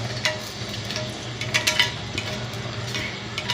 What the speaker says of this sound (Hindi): ये लहसुन और अदरक है, ये मैं डाल रही हूँ इसमें।